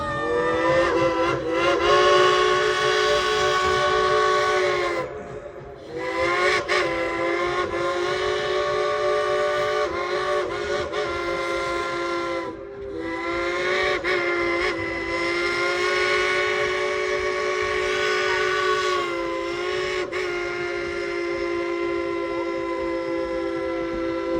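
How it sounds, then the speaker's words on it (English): The Dollywood Express steam train whistle blows loud, long and sustained, with rich harmonic tones, breaking briefly twice before sounding again for over twenty seconds. "blow that whistle of his real loud and long"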